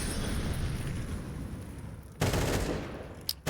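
Counter-Strike gunfire with AK rifles and pistols: a low rumbling backdrop, then a sudden loud burst of rapid shots near the end, followed by a couple of sharp single cracks.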